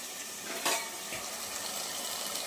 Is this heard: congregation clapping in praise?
no